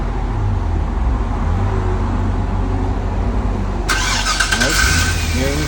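A GM car engine cranks and catches after an ignition switch repair, settling into a close, steady idle rumble, with a brief higher-pitched whir near the end.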